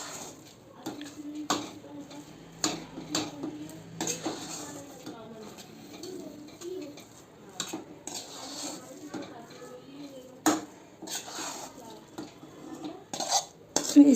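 Spices stirred and fried in a metal kadhai, with repeated clinks and scrapes of a spoon against the pan over a faint sizzle, close by, and a voice speaking at times between the strokes.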